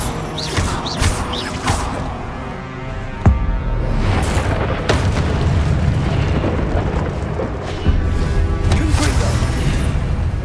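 Confringo spell blasts in Hogwarts Legacy, with several loud booms and crashes landing over a dense rumbling background of combat noise.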